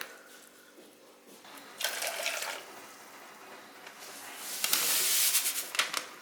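Hot water pours into a glass in two bursts, the second louder and splashier as the glass fills, close and alone with no talking.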